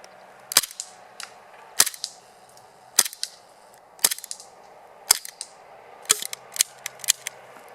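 An M9 heavy-weight gas airsoft pistol, its gas running low, fires about a dozen sharp, dry snaps at a tree outdoors, in irregular single shots and quick pairs with quiet gaps between.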